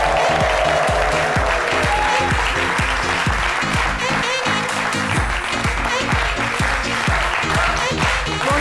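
A studio audience applauding a guest on a French-language talk show, loud sustained clapping layered over a pounding rhythmic music bed with a steady beat, continuing strongly throughout.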